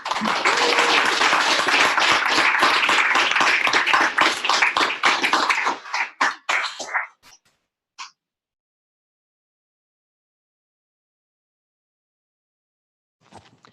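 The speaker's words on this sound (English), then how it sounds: "Can we give her a round of applause?" A meetup audience claps for several seconds, loud and dense, then thins into a few scattered claps and fades out, followed by a long silence.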